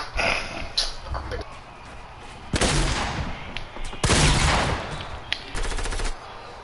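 Video game gunfire, with sharp bursts of automatic shots in two or three clusters separated by quieter stretches, loud and close, with faint background game noise between the volleys.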